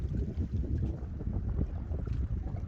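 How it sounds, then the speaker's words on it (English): Steady, rumbling wind buffets the microphone aboard a fishing boat at sea, a continuous low roar with gusty swells and no clear voices. "It's a bit blowy."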